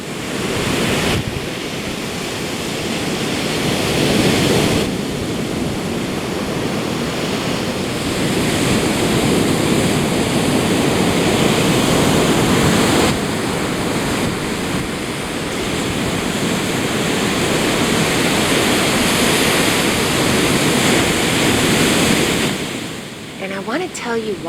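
Ocean surf rolls onto a beach in a continuous, loud wash of breaking waves, with gusts of wind buffeting the microphone throughout and no voices.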